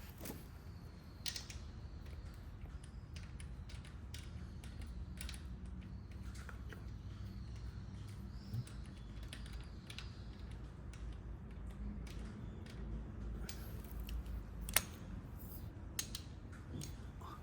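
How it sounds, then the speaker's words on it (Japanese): A torque wrench tightens the oil drain bolt on a Harley-Davidson Sportster with steady, faint ratcheting clicks and creaks repeating for a long stretch, close by and with no talk. "トルクレンチで、30ぐらいでいいって言ってたんで、とりあえず締めていきます"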